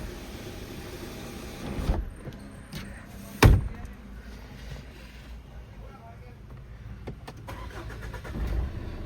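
A Tata Nexon XZA+ automatic diesel turns over with a brief starter crank and catches into a low, quiet idle, heard close from inside the car. Someone talks faintly over it.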